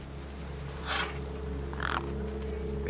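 Crows cawing in the video game Beyond a Steel Sky: two rough caws about a second apart over a steady low ambient hum.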